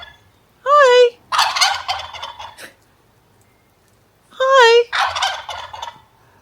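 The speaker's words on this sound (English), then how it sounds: "Oh, it's a big fat turkey." A turkey gobbles twice, each burst a loud, warbling rattle followed by a trailing chatter, with a pause of a few seconds between them.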